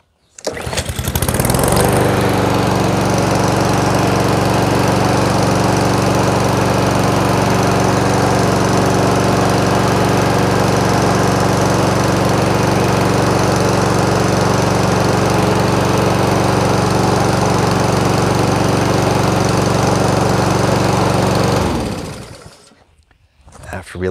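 Cub Cadet SC100H lawn mower engine starting up and running at a steady, loud, close drone for about twenty seconds before cutting off, with no talk over it.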